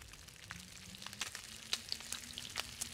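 Venison sizzling as it cooks over a fire in The Long Dark: a continuous close frying hiss dotted with sharp pops and spatters, with no voices.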